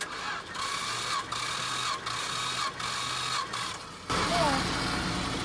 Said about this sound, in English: I'll show you how slowly it's cranking